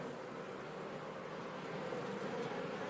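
Honeybee colony humming inside a hive, a faint, steady, dense buzzing drone with no pauses or voices.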